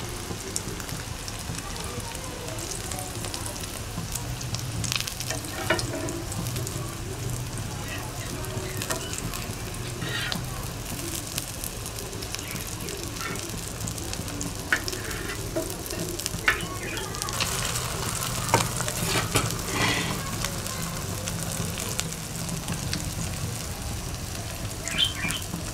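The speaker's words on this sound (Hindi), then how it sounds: "ये फ्राई भी हो जाएंगी साथ।" Shami kabab patties fry in hot oil with a steady, dense sizzle throughout, punctuated by occasional louder crackles and pops, close and continuous.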